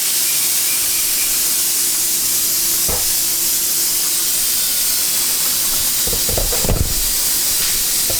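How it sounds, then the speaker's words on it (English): A pressure canner with its jiggler weight in place hisses steadily with escaping steam, a loud continuous rush that holds throughout, with a couple of faint knocks near the end. "I'll put the jiggler on it and we'll get the pressure up in the can to the cooking temperature"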